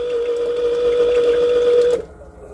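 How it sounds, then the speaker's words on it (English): An oil drain pump hums steadily on a Volvo Penta D9 575 hp marine diesel as the engine oil finishes draining, then cuts off abruptly near the end, leaving quiet. "It's finished pulling out, but it starts to splatter everywhere."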